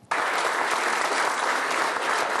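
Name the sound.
applause at a party election night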